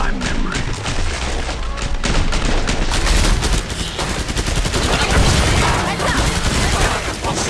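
Loud, dense gunfire in the shooter game Killing Floor 2, rapid automatic bursts and heavy shots firing almost continuously throughout.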